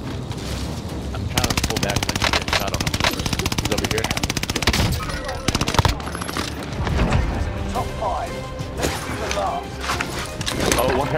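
Rapid automatic gunfire in a shooting video game rattles in long, loud bursts with scattered single shots, while players talk over the action.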